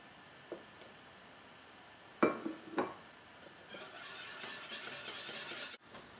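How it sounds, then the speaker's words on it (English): An egg yolk is stirred into banana cream pie filling in a pot: a couple of sharp clinks, then quick, continuous whisking and scraping against the pot before a sudden stop. "So I'm just going to put in my single egg yolk and quickly mix it in."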